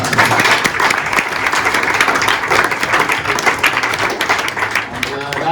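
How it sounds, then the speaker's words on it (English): A room full of people at a hockey club's 60th birthday gathering applauds a player, brisk continuous clapping close by with scattered voices mixed in. "deserves a round of applause for that"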